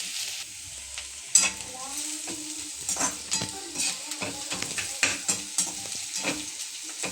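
Onions fry in a pan for a potato curry, with a steady close sizzle broken by frequent scraping and stirring strokes that come in irregular bursts, and no voices over it.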